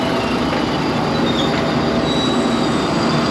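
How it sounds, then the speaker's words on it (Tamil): A train rolls along the rails with a loud, constant rumble, steady wheel noise and thin squeals, heard from close by or from on board. "இப்ப இந்த ஒரு ட்ரெயின் பார்த்தீங்கன்னா போயிட்டு இருக்கு"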